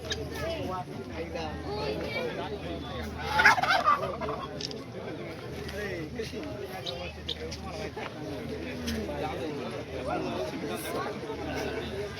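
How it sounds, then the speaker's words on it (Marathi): Guinea fowl calls ring out over a busy farmyard at an agricultural exhibition, with a louder burst of squawking partway through and people chattering in the background. "ही कोंबडी बघा ना इकडची गिनी फाऊल"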